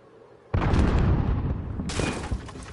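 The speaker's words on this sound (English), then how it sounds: "Grenade out." Grenade explosion in Call of Duty played on a PS5: a sudden loud boom after a quiet lead-in, followed by a long rumbling tail and a second burst of crackling debris and shattering.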